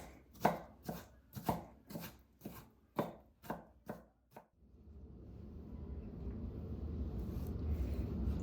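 A knife chops cucumbers on a cutting board for a salad, about nine sharp rhythmic thuds close by, then a rising soft rustling and scraping as the pieces are moved, with no talking.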